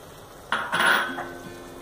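A spoon scrapes through salted, spice-powdered tomato rice in a metal pot in one brief, close stirring sweep with faint pan clatter, no voices.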